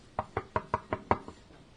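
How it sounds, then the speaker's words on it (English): Seven firm knocks land on a door in a steady, even rhythm, close and clear with no voices. "so just to please you, I will knock on the door"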